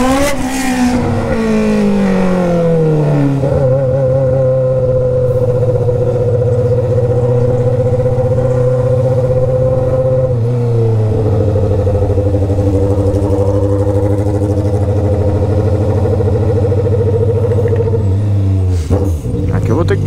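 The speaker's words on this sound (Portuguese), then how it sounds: "eu tô querendo mandar essa motoca pra vocês" Honda Hornet motorcycle with a straight-pipe exhaust, ridden at night, its engine droning loud and steady with rising and falling revs throughout, with someone talking over it.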